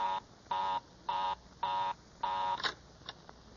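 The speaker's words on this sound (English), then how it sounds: "Well, of all the luck. Mary's line is always busy." A telephone busy signal in an old radio play: four to five evenly spaced buzzing tone bursts, moderately quiet and alone, followed by a click and a couple of faint receiver clicks.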